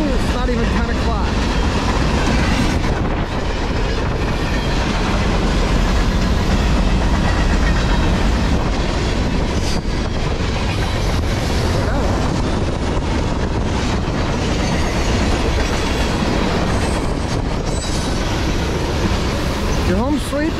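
A CSX freight train passes close by in the morning, a loud, continuous rumble of wagons with clickety-clack over the rail joints, while a person talks over it.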